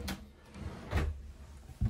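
A drawer sliding open or shut in a narrowboat kitchen, giving two or three soft wooden knocks and rumbles close by, each brief, with quiet gaps between them.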